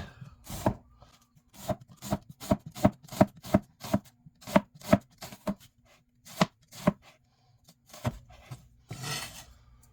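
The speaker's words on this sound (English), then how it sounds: "So now I'm just going to finely slice it." A knife finely slices vegetable skins on a cutting board for a Spanish omelette, giving a close run of crisp, evenly spaced chops in quick succession, a brief pause, then a few more cuts and a scrape at the end.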